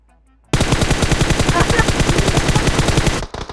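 Gunfire in the mobile battle royale game PUBG Mobile, one long, loud, evenly paced burst of automatic shots that starts abruptly after a moment of near silence and stops suddenly.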